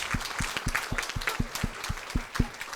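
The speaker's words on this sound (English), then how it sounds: "One more time, round of applause for John and Ed." A small crowd at a 2019 MGEF celebration giving a round of applause, a dozen or so distinct, fairly quick claps in a loose rhythm, moderately close with no talk over them.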